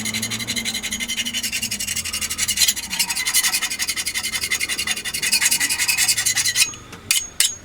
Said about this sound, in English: I could scrape it off a bit better with the back of the saw